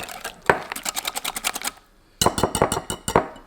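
Crepe batter with a spoonful of melted butter being whisked by hand in a bowl: quick, close, rhythmic clinking strokes in two bursts, with a short pause between them.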